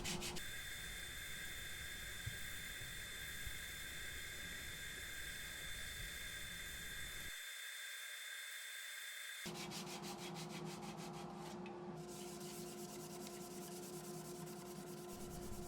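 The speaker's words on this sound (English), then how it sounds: "Lots of hand sanding with the natural edge bowl." Continuous abrasive rubbing and hissing of sandpaper hand sanding a natural edge butternut bowl, steady and close, with a short quieter break and a change in texture partway through.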